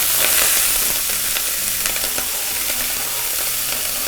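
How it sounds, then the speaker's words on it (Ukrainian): Steady, crackling sizzle of onion frying in a hot pan, continuous and close, with no talking. "зараз будемо її смажити на сковорідці"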